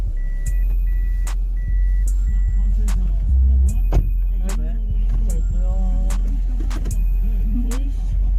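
A private car driving through Togane in Chiba, Japan, a low steady engine rumble under a clattering cabin with clicks, beeps and a thump, and a voice speaking briefly over it.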